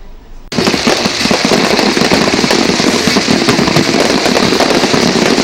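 Fireworks explode at the IPL seventh-season opening ceremony at the Emirates Palace in Abu Dhabi, a sudden start into a loud, dense, continuous crackling barrage that never lets up.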